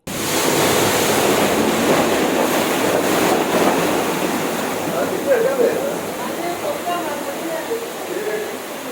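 Swell surges onto the Thiruvananthapuram coast during a kallakkadal sea attack that flooded homes, a steady loud roar of breaking surf with gusty wind noise and faint voices in the background.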